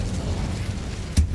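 A fire spell cast in the video game Hogwarts Legacy gives a brief whooshing burst near the end, rising over a constant dense wash of game ambience.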